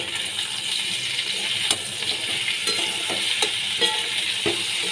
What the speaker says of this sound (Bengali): ধনে গুঁড়ো দিয়ে আমি ভালো করে নাড়াচাড়া করে নিলাম